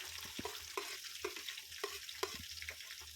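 Spices and chopped onions frying in hot oil for Hyderabadi chicken biryani, a steady sizzle with repeated stirring scrapes at an irregular rhythm, close and moderately quiet, with no voices.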